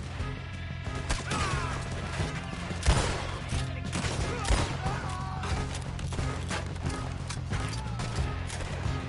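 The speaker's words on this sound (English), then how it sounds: "Just keep shooting till nothing moves." Sustained shootout in Red Dead Redemption 2, with repeated gunshots and impacts cracking over a dense, busy game soundscape, one sharper report standing out partway through.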